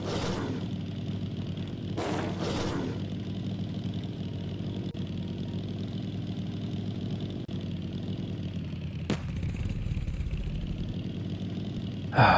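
Steady mid-pitched engine drone of a motorcycle in the zombie survival game Night of the Dead, running continuously with a brief sharp click partway through and no voices.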